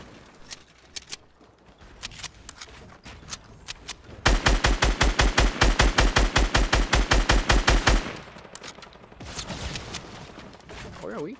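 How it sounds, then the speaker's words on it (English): Automatic gunfire crackles in a Fortnite squad match, with scattered shots building into a loud rapid burst of about three and a half seconds, then sporadic shots again. "Where are we getting shot from?"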